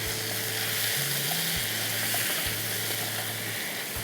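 Sweet sandesh mixture sizzles steadily in a frying pan as it is stirred, a continuous close frying hiss with faint scraping, no voices.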